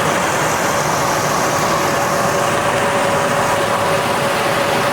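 A 1984 Mercury Capri engine idling steadily with its idle speed set a little higher, a loud, constant close-up rumble with no pauses.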